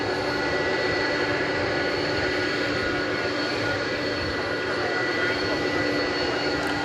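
Atlas Air jet aircraft at DFW Airport at night, a steady broadband engine roar with a constant whine holding at even loudness throughout, heard from a distance with no talking.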